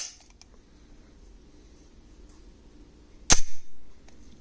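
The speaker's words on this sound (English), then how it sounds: "Let's try the trigger one more time." A single sharp dry-fire trigger click from a Kahr P45 .45 ACP pistol, heard once and close against quiet room tone.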